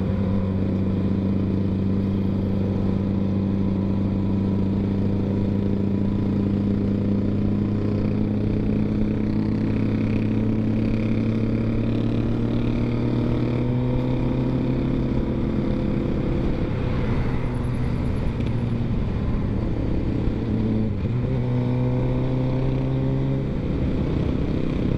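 A convoy of motorcycles leaving a motorcycle club anniversary gathering, engines droning steadily and close for a long stretch, with shifting pitches as several bikes rev and pull away together.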